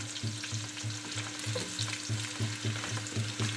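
Garlic and onion frying in oil in a pan, a steady close sizzle punctuated by a regular rhythm of soft stirring scrapes, with no speech.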